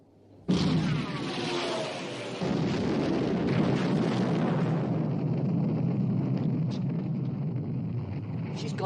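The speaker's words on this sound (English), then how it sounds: "Open fire, main armament." Warship main guns open fire in a naval battle drama: a sudden heavy blast swells into a sustained roaring rumble, with a second surge of booming fire, loud and enveloping, with no talk.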